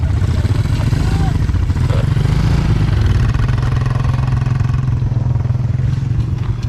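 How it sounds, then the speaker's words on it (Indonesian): Motorcycle taxi engine droning steadily as it carries riders uphill toward Lembah Purba at Situ Gunung, a loud close rumble with rattling throughout. "Naik motor untuk naik ke Lembah Purba."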